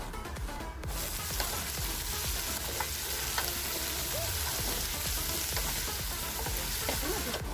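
Sliced onions and garlic sautéing with salt in hot oil give off a close, steady sizzle with faint stirring clicks, starting after a brief quieter moment and running on without any talk.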